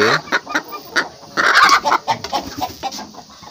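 KUB chickens clucking close by, a run of short repeated clucks with a louder burst of excited calling in the middle.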